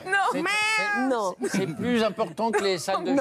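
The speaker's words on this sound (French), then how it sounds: "Tigrou, c'est le chat qu'on avait vu sur le terrain de foot" A cat called Tigrou meows in long, drawn-out cries, loud and close, as a person speaks French over and between them.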